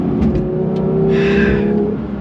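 A 2022 Porsche 911 GT3 with six individual throttle bodies revs its engine, a loud close steady drone that swells briefly with a harsher intake rasp before easing off.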